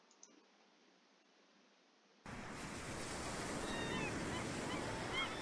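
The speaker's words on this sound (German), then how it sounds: "Das Meer." Sea waves in the video game Voices from the Sea: after a near-silent opening, a steady, broad wash of surf rises abruptly and keeps rolling evenly.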